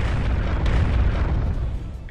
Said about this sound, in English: we could hear a series of explosions.